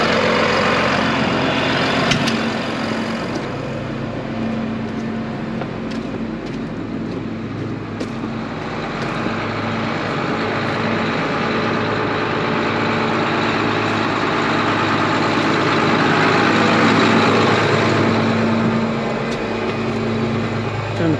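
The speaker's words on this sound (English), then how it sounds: "Turn the PTO on, rev it up." Tractor engine revving steadily with the PTO engaged on a rye field, a loud continuous low drone that holds for about twenty seconds and swells slightly near the end.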